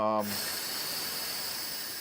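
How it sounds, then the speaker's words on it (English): An espresso machine's steam wand purges steam after milk frothing, giving a loud, steady hiss that runs nearly two seconds after a brief voice at the start. "run some more steam through after you froth"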